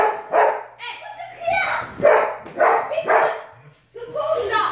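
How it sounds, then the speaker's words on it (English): A dog barks repeatedly at close range in a quick, uneven series of sharp barks while people play with dogs, with a short whimper near the end. "What are you barking at?"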